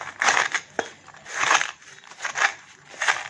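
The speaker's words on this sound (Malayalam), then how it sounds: "നമുക്കിത് പൊടിച്ചെടുക്കാം." Fried papadam being crushed by hand, with about five crisp, crackling crunches in an uneven rhythm, close and fairly loud, no voices.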